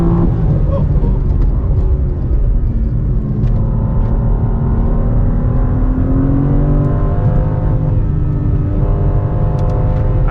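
A BMW M4 CSL on a race track gives a loud, steady engine drone from inside the cabin, pulling hard with a rising pitch that holds for about ten seconds.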